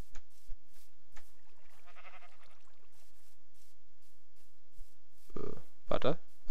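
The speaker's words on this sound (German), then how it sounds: "Ja, Schafe sind hier genug abbauen." Sheep in the video game Minecraft bleat twice near the end, loud and close. Faint clicks and soft game noises come before the bleats, and no one speaks.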